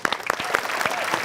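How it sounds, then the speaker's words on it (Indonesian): A game show studio audience applauds contestant Noval, a burst of close, crisp clapping with distinct loud individual claps popping out over a fuller crowd patter, lively and uneven for a brief moment. "Kita berikan tepuk tangan untuk Noval."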